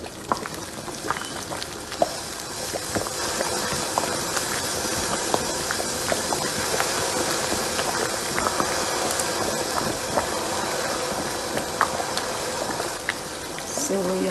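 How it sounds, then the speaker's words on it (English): A covered pot of Nigerian egusi and ogbono soup simmering on the stove, giving a steady close bubbling hiss with soft pops that runs unbroken the whole time. "I'm gonna cover this pot and let this simmer very well"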